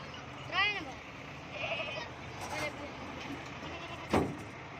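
A goat from a goat farm bleats a couple of times while being loaded onto cargo transport, with people talking and background vehicle noise.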